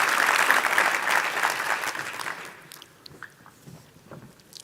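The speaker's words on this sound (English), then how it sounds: "A warm round of applause for both of them," An audience applauds at the Bizkaia Enpresa 2023 award ceremony. The clapping is loud and dense at first, then thins after a couple of seconds into scattered, fading claps.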